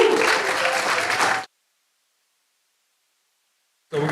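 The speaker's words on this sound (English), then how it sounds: "say hello to SGA, clap for them." Student government members clapping to welcome new freshman senators at a Louisiana Tech SGA meeting, a short burst of group applause with voices over it, cut off by a stretch of silence, then resuming briefly at the end.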